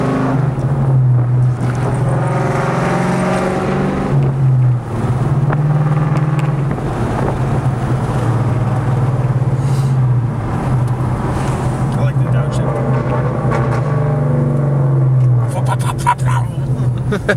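Ford Mustang 5.0 with a loud modified exhaust booming close and steady as it accelerates, its pitch rising and then dropping at each of a couple of upshifts, with a rough wind-buffeted edge.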